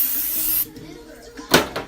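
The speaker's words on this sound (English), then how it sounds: "I'm going to spray it with this." Cooking spray hisses over chicken wings before they go into an air fryer, first as a steady spray that stops, then as a short sharp burst, heard close with a little background noise.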